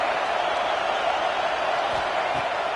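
A college football stadium crowd, a dense, steady roar of many distant voices filling the space without pause.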